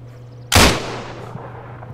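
A single sharp gunshot rings out in the Breaking Point video game, loud and close, followed by a brief decaying echo against a low steady background hum.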